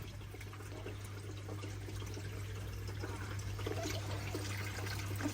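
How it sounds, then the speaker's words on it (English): Water trickles steadily out of aquarium plumbing during a reef tank move, a continuous soft wash of flow at moderate level over a low steady hum, with no talk. "that's a pretty nice trickle, like not trickle, but we don't want the water going faster than it needs to"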